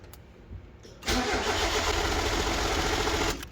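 A turbocharged 1.6 Miata engine cranks briefly for its first start, then catches abruptly and runs at a loud, steady idle for a couple of seconds before dropping off, all close up.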